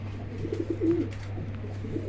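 Fancy racer pigeons, including black and silver Lahori birds, coo softly in a short murmuring phrase over a steady low hum, fairly close with no voices.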